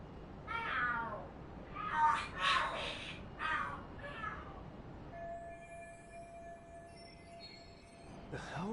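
Cats fighting and screaming in the video game Lost Judgment, a run of several loud yowls and screeches in the first half, then a thin steady tone alone.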